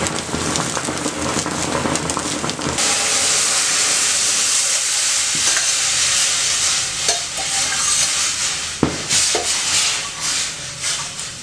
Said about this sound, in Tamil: நல்ல எண்ணெய் காஞ்சிருச்சு. இப்போ கடுகு போட்டுடலாம்.